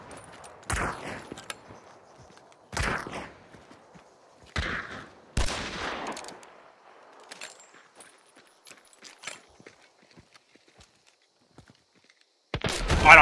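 Gunfire rings out in the video game Hunt: Showdown as several sharp single shots spaced a few seconds apart, followed by quieter shuffling and a loud burst at the end.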